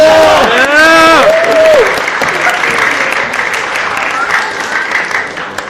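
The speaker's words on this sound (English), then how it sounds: "All right, give them a round of applause." A school assembly audience gives a round of applause, loud clapping with cheering voices rising at the start, then settling into steady clapping that gradually eases off.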